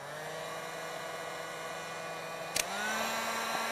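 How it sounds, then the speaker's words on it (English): A heat gun warms a chocolate mould with a steady whirring blow, fairly quiet and constant, with a short clatter near the end. "with the heat gun. Just going around the parts where you know you're going to have the flow of the cocoa butter."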